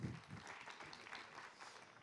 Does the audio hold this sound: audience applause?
yes